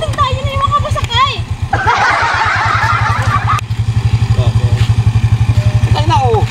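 A motorcycle engine sputters and catches, then settles into a fast, pulsing idle close by, while children and adults chatter and shout over it.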